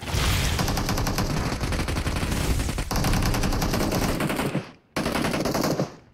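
Sustained automatic gunfire from a PUBG Mobile match, dense rapid bursts filling most of the stretch, loud and close, with a brief gap before the shooting resumes.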